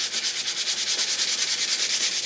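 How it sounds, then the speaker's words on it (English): Steady back-and-forth sandpaper strokes rubbing epoxy pore fill off a guitar peg head, close up and rhythmic at about eight passes per second, with no talk. "So keep sanding to get all of that off."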